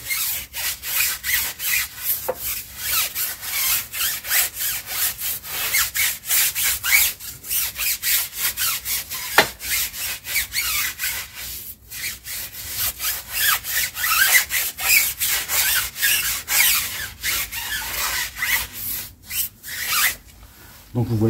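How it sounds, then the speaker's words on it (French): Stiff brush scrubbing a brown-stained car wheel rim in a steady run of rapid, rasping back-and-forth strokes, loud and close, continuing without speech for about twenty seconds. "Donc on va utiliser la brosse."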